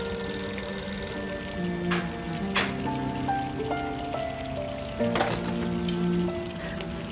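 A telephone rings in a household scene from a Turkish drama, with repeated bell-like tones mixed with background music and no speech.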